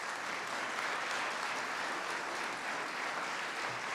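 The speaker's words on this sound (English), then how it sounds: "I think we should give a round of applause for that" Sustained round of applause from guests at a Boys and Girls Club donor luncheon, an even wash of many hands clapping at moderate distance with no pauses.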